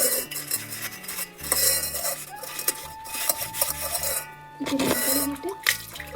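A metal pot is scrubbed and washed at home, with rough rasping strokes and clinking metal scrapes in uneven bursts, close and moderately loud, with faint talk in the background.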